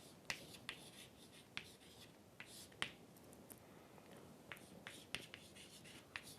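Pen or chalk writing out a soil mechanics problem on a retaining wall, faint scratchy strokes broken by sharp ticks and taps at an uneven pace, quiet and without speech.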